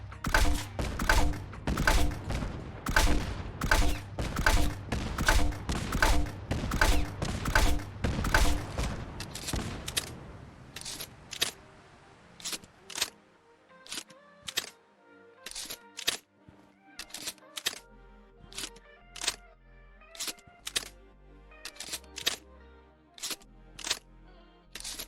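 Grenade APW weapon in Fallout 4 firing a rapid burst of loud, sharp shots for about ten seconds, then a long reload of spaced clicks and mechanical clacks.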